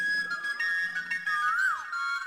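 A person whistles while watching a film, a clear tone that holds steady and then slides up and down near the end, heard alone over faint room sound.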